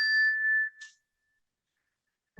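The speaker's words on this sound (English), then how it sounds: "You can enjoy the sound of the bell as it fades." A meditation bell is struck once during a calm mindfulness session, ringing clear and sustained before fading quickly to silence, followed by a faint soft sound at the very end.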